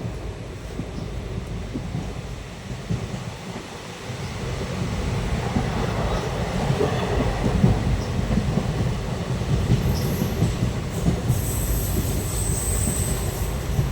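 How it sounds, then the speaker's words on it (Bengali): A train rumbles along steadily, with a constant low roar of wheels on track and a thin metallic squeal rising near the end. "কালকে উঠেছি ট্রেনে, এখনও ট্রেনেই আছি।"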